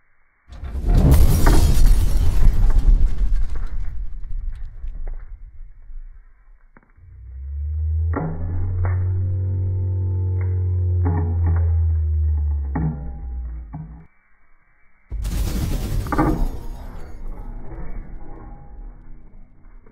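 A real emerald crushed in a press, bursting with a loud, sharp shattering crack that is followed by a steady mechanical hum from the press, and then a second loud shattering burst near the end.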